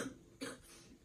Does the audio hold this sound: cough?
yes